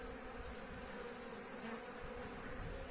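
Honeybees buzz steadily at a hive during an early spring inspection, a dense, continuous drone close to the listener with no talking.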